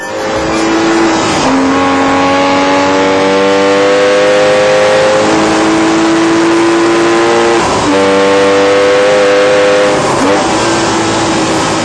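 A Porsche 911 Turbo engine revs hard and loud up close, its pitch sweeping upward through several rising pulls with brief dips between gear changes, sustained for about twelve seconds with no voices.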